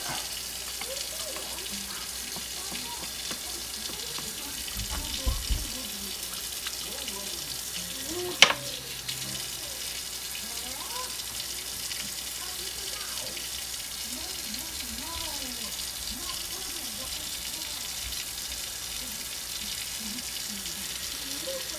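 Cold water runs steadily from a kitchen sink tap to rinse homemade butter, a continuous close hiss broken by a few brief knocks, with people talking faintly.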